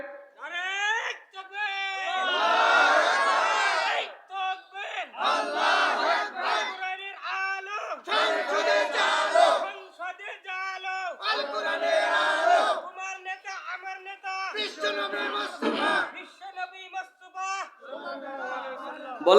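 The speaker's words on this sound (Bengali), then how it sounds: "একটা যুবক ভাই স্লোগান দেন তো ভাই," A large crowd at a religious gathering chants a slogan in loud, rhythmic call-and-response bursts, a lead voice alternating with many voices shouting together, repeated several times with brief pauses between.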